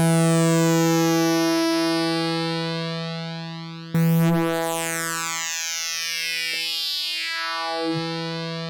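A Dreadbox Typhon mono synth plays sustained tones through its wavefolder distortion, producing buzzy, harmonically rich notes that sweep and shift, with a sharp new note entering midway and shimmering folded overtones trailing off.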